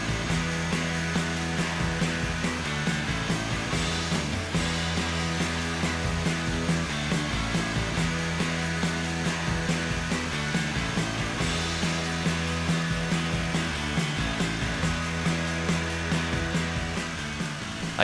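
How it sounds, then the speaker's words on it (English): Jigsaw cutting crown molding held in a Rockler Easy Cope jig, a continuous loud buzzing motor with fast rhythmic blade strokes and brief pauses as the cut shifts, close and steady with no talking. "The jig keeps your jigsaw at the perfect angle so you don't have to spend time filing down high spots"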